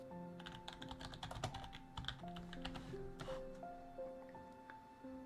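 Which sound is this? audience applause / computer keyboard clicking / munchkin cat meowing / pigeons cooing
computer keyboard clicking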